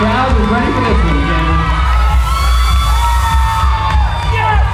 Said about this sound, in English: The crowd is ready for this one